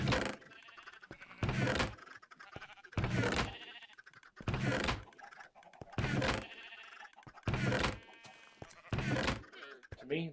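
Sheep in a Minecraft farm built with minecarts and hoppers bleat in evenly spaced bursts, about eight loud cries over ten seconds, with a faint clunk between them and no talking.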